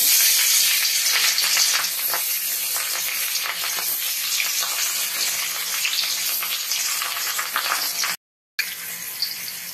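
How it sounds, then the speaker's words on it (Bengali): Catla fish pieces coated in salt and turmeric fry in hot oil, a loud, dense crackling sizzle that carries on steadily, then cuts out briefly before resuming. "এবার মাছগুলো ভেজে"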